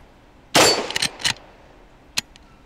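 A single sharp gunshot from a Henry lever-action rifle chambered in .357, followed by a few quick metallic clacks of the lever cycling and one more short click, all fairly close outdoors.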